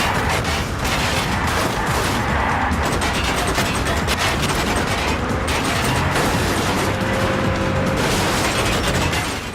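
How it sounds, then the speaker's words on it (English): Gunfire in the action driving game Wheelman: a dense, continuous barrage of shots and mechanical clatter fills the whole stretch, loud and unbroken. "I never get tired of shooting guns."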